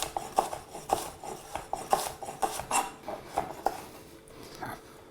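Repeated sharp knife taps on a wooden board chopping a shallot finely, a steady rhythm of about a dozen close, crisp strikes with no talking.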